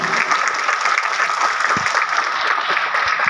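Audience at an event in Malaysia honouring the country's first astronaut gives a loud, sustained round of applause, dense clapping close and continuous throughout with no speech over it.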